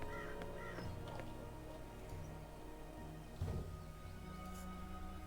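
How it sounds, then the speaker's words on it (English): A crow caws a few times in the fantasy game Dreamfall Chapters, faint and distant over a steady low ambient background. "That filthy, chattering fowl must be over there somewhere."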